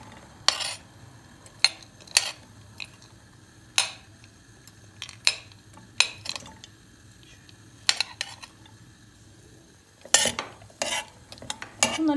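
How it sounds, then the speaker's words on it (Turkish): Carrots being sautéed and stirred in a pot for a meatball soup, with sharp, intermittent scrapes and clinks of a utensil against the pot over a faint background sizzle. "havuçlarım biraz daha sert olduğu için havuçlarımı kavuracağım"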